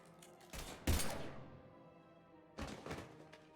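Gunfire in the video game Mass Effect 3: a couple of sharp, loud thunking shots close together near the start, then another short burst of reports after a pause, with a low rumbling background between them.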